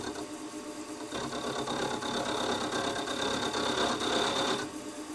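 Machine tool cutting a small spot face on a Stuart Models S50 model engine part, a steady whirring, buzzing machining drone that swells louder and denser after the first second, then eases near the end, close and continuous with no talk.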